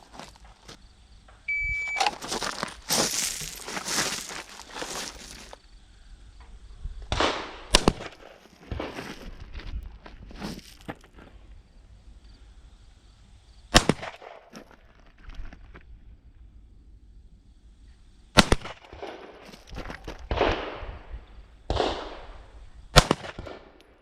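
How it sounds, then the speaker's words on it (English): Handgun shots ring out on a law enforcement qualification range, sharp loud reports in several separate clusters spread across the span, with mechanical handling clicks between strings of fire. "I'm going to shoot it in the exact order they're asking me to shoot"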